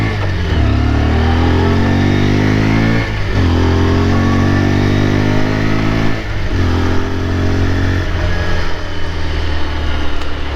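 A Bajaj Pulsar N125 motorcycle engine revs repeatedly with the throttle, rising in pitch several times and dropping between blips, loud and close with no talk.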